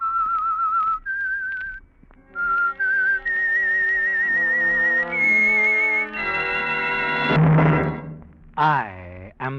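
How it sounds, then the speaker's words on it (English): A clear, melodic whistled tune rises and steps through several sustained notes, alone and close, ending with a bright swooping flourish. "the signal to listen for is this whistle that identifies the Signal Oil program"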